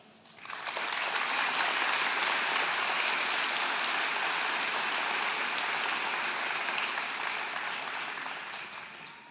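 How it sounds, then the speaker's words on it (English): Sustained applause from a large crowd at a high school graduation ceremony, dense and steady for several seconds before tapering slightly at the end, heard from a distance. "give a round of applause"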